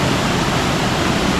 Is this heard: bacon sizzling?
no